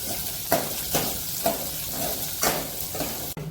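Chopped onions with green chillies frying in a pan for a Gujarati sev tameta curry, a steady close sizzle broken by several brief stirring scrapes.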